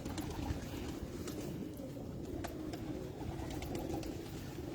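Pigeons cooing softly inside a loft, a steady low murmur of several birds with faint chirps over a dense background.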